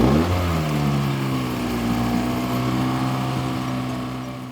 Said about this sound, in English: I'm going to give it a little extra gas to help it warm up.